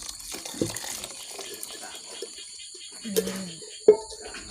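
Hot water is poured over meat in a pot to blanch it, a soft splashing pour with a brief louder gush and a couple of sharp knocks near the end, while a person talks.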